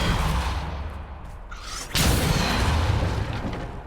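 Spell cast in Hogwarts Legacy: a sudden forceful blast lands midway, swelling into a sustained roaring whoosh over dense, loud game background noise.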